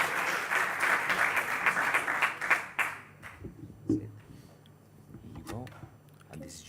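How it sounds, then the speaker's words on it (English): Audience applause for a team at a closing ceremony, a dense burst of many hands clapping for about three seconds, then fading into quieter room noise with scattered movement and voices. "Again, a big round of applause"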